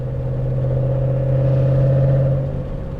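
Loud car engine rumbling steadily at close range while driving, with a deep sustained drone that swells slightly in the middle before easing back.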